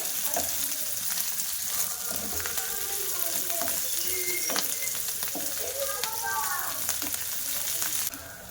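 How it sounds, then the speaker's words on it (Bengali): Rice frying in a pan with cashews and raisins for coconut pulao, a steady close sizzle with repeated scraping stirs throughout, no talk over it. "এবার ভালো করে কষিয়ে নেব চালটা ওর মধ্যে কাজু বাদাম আর কিশমিশ দিয়ে দেবো"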